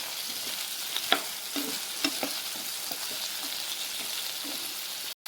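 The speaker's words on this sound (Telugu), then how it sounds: "ఇలా వంకాయలను యాడ్ చేసుకొని ఒక 5 మినిట్స్ ఇలా ఫ్రై చేసుకోవాలండి." Brinjal pieces frying in a pan for a curd brinjal curry, a steady close sizzle with a few sharp stirring clicks and scrapes early on, no talk, ending in a brief cut.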